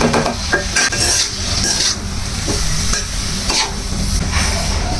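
Green chilies and onion fry in a hot pan with a steady, close sizzle, broken by a few sharp scrapes and clinks of stirring.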